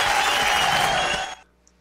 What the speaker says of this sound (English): All right, Avi, let's give a round of applause.